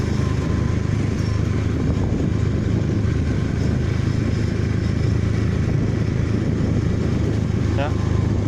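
Motorcycles straining up a steep hill climb, their engines producing a loud, continuous rough drone that stays steady throughout, with clattering mechanical noise layered on top.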